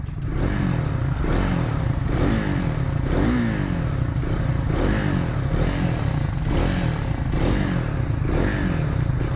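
Exhaust of a 2024 Triumph Scrambler 400 X motorcycle while riding: a loud, continuous engine drone close by, rising and falling in rhythmic swells as the throttle changes, with no speech over it.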